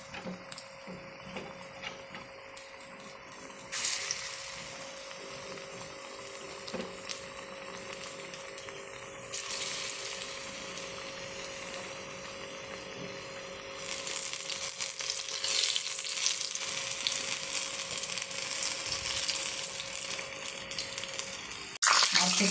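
Battered jackfruit pieces frying in hot oil, a quiet crackling sizzle that swells louder in bursts as more pieces go in, with faint clinks and handling noises.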